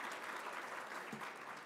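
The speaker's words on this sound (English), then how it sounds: "How about joining me in a round of applause to welcome students and thank their sponsors." Audience applause at a university event welcoming students and thanking sponsors, a brief, steady patter of many hands clapping at moderate volume.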